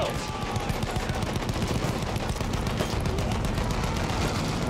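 Sustained suppressing fire in the first-person shooter Battlefield 1: a loud, dense stream of rapid gunshots and bursts with no letup, overlapping into a continuous battlefield barrage.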